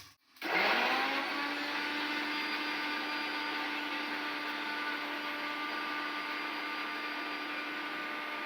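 A blender or mixer grinds spinach with a little water into paste, starting abruptly after a brief silence, then running as a loud, steady, high-pitched whirring drone.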